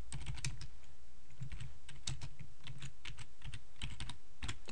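Rapid, steady typing on a computer keyboard, dense and even clicking keystrokes close by, faint and alone with no voices.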